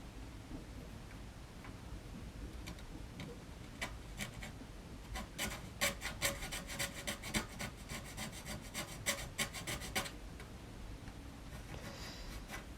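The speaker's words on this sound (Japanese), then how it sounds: "丸いパネル、 これに合わせていかないといけないですから 、まあヤスリで気長にね削っていくしかないですよ" A round plastic model-kit panel is hand-filed to a slight taper, giving a steady dry rasping rub with a busier run of sharper strokes in the middle, close and fairly quiet, with no talking.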